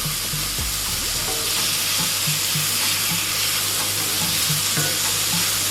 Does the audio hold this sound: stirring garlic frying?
yes